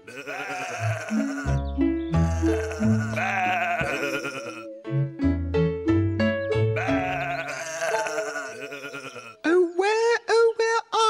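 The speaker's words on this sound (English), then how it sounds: "Sheep." Sheep bleating in a children's play setting: a sung melodic phrase first, then several short wavering bleats near the end, close and clear.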